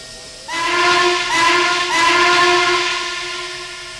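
The harmonic whistle of Norfolk and Western Class A articulated steam locomotive 1218, built at the Roanoke shops in 1943, sounds loud and steady for about three seconds, with a slight dip in the middle before it trails off.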